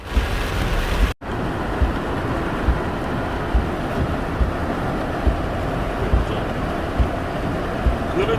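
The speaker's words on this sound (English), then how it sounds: "Whoever riding in the rain, careful." Heavy rain pours down during bad weather in Ohio, a steady, dense hiss with a brief dropout near the start, then an unbroken wash with small splashes.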